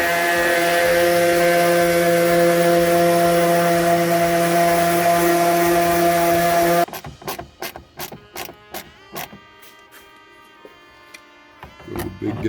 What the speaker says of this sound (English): We're gonna just sand it basically right here and try to flatten that out.